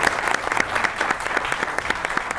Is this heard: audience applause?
yes